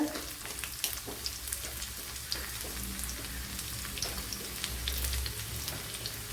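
Shallots sizzling in hot oil with mustard seeds for a Kerala ash gourd curry, a steady soft crackle with scattered faint pops, fairly quiet and close, with no talking.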